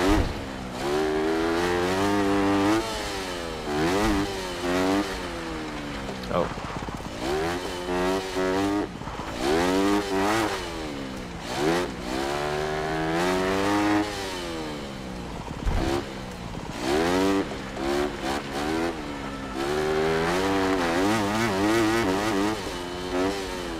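Dirt bike engine in the Monster Energy Supercross 6 video game, with an auto clutch, revving and shifting through gears in a continuous loud whine that rises and falls in repeated sweeps, alone without talk.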